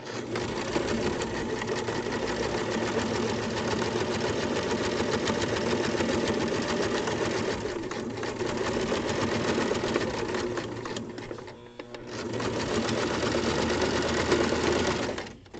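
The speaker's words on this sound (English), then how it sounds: "I'm just running the edge of my presser foot against the cut edge of my fabric because I've got plenty of seam allowance here" A sewing machine stitches fabric along the seam allowance, running steadily and loudly with a rapid, even mechanical clatter for the whole stretch, pausing only briefly near the end before resuming; no one talks.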